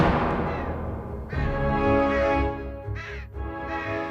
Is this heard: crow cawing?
yes